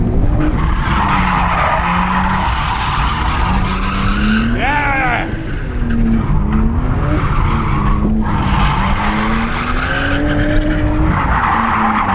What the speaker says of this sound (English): Oh, it's so good watching you clutch kick in.